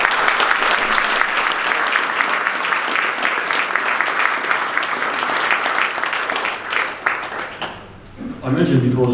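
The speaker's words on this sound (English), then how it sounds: "We have a round of applause for Tracey." A lecture audience at a Knights of the Southern Cross God & Beer event gives Professor Tracey Rowland sustained, dense applause that holds steady, thins out near the end and gives way to a speaking voice.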